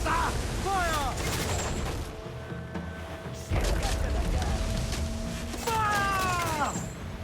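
Ship cannons booming in a naval battle in Assassin's Creed IV: Black Flag, several heavy blasts in bursts with rumbling decay, mixed with shouted voices and game effects.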